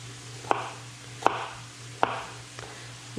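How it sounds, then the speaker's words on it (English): A knife slices a shallot into thin slices on a cutting board, three crisp, evenly spaced cuts with a fourth softer one, quiet and close against a low steady hum. "We're just going to quickly slice this. Just thin little slices."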